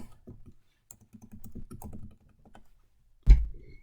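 Keys clatter on a computer keyboard in quick, close bursts of typing while personal information is entered, ending with one sharp louder keystroke.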